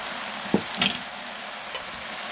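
Fish cake stir-fried with chili oil in a pan, stirred with a few distinct scrapes and clinks over a steady low sizzle, close by.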